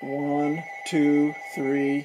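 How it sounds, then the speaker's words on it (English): A telephone rings in three bursts, each a buzzy electronic trill with short gaps between, loud and close, while a man counts aloud over it. "Sorry about the phone."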